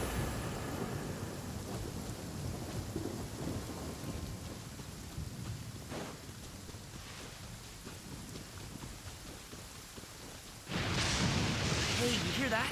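Rain and thunder in the video game Genshin Impact, with steady rain hiss, low rumbling thunder, and a louder burst of downpour near the end.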